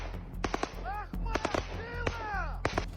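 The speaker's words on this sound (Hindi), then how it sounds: "चाहे गोलियां बरसाती राइफल हो" Rifle gunfire in wartime Ukraine cracks out in sharp, irregular shots and short bursts, loud and close, over a low rumble with whistling tones between the shots.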